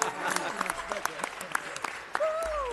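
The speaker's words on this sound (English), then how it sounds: "Give her a round of applause." A city council meeting audience claps for a guest invited to the microphone, a brief patter of scattered applause from a modest crowd with voices chatting over it, ending as a short spoken exclamation cuts in.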